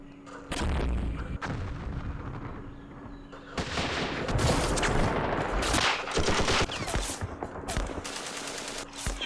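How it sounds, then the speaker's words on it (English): Mortar and artillery fire from the Campaign Series Vietnam war game, Dien Bien Phu scenario: dense, continuous booming barrages with rapid overlapping gunfire bursts, loud and sustained throughout, with faint voices mixed in. "Mortars."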